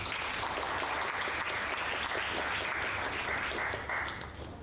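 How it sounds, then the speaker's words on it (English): Audience applause at an expat entrepreneur awards ceremony, a dense, even roar of many hands held steady for several seconds before beginning to ease off. "let's give him a round of applause"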